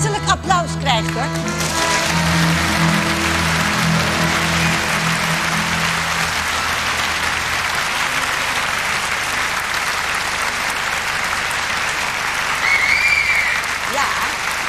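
Warm audience applause fills a hall at a children's reading event with an orchestra, the Koninklijk Orkest Tata Mirando, steady dense clapping sustained throughout, with some instrument tones and voices briefly mixed in at the start.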